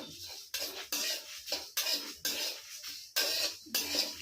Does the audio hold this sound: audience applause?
no